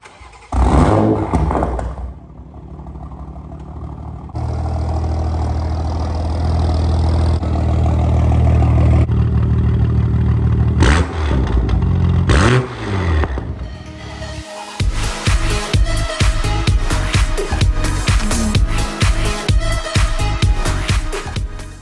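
A car engine, a Toyota Supra with a full titanium Tomei exhaust, starts, idles loudly, then revs hard in repeated sharp bursts, a raspy, aggressive exhaust roar close by.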